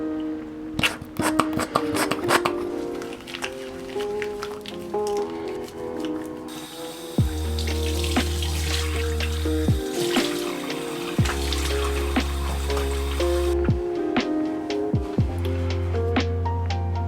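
Water runs from a bathroom tap and splashes while a face is washed, with dripping and splashing close by, a steadier stream in the second half and background music.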